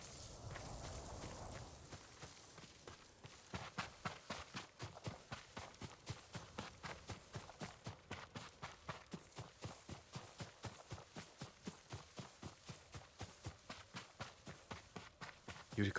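Horse hooves clop in a steady, even rhythm on the ground, close and continuous after a brief start of ambient noise, with no talk.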